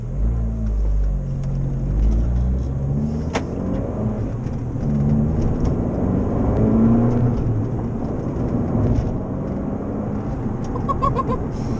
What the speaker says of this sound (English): sports mode, which should open up the valves on the Record Monza and make the acceleration more on point on the old throttle pedal